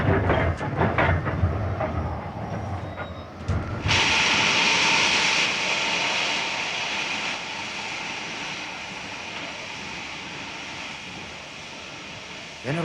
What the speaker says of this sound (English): The train's slowing down.